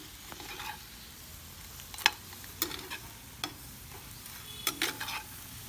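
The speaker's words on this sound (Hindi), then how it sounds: "नाउ हम लोग क्रैब्स को डाल देंगे उसके अंदर, फिर हम थोड़ा मिक्स करेंगे उसको।" Crabs stirred into a tandoori masala in a pan, a faint background fry broken by a handful of sharp clacks and scrapes as the shells are mixed, no speech.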